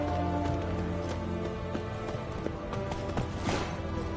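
Roach, Geralt's horse in The Witcher 3, gallops with steady, fairly quiet hoofbeats under a continuous ambient background, with no talking.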